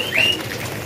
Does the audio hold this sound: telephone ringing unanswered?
no